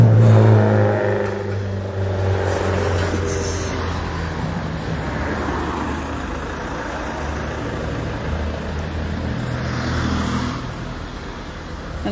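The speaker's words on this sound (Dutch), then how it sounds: "En dan komt er een bus aan" A school bus on a road in Barbados rumbles closer, a steady low engine drone with broadband traffic noise that swells slightly, fairly loud and continuous with no talk.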